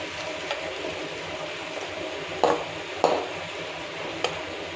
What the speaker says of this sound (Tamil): வெண்டைக்காய் சூப்பராக நல்லா ஃப்ரை ஆகிடுச்சு